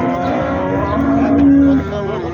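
At the Souq El-Hamoul livestock market in Kafr El-Sheikh, a cow lets out a long, loud moo over a steady din of crowd noise and animals.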